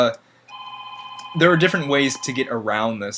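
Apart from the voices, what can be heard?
telephone ringing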